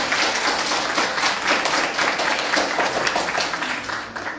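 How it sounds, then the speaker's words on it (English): Applause from the audience at a morning panel event, a continuous, fairly loud patter of many people clapping that holds steady and eases slightly toward the end. "I also want to give a round of applause to my co-facilitator,"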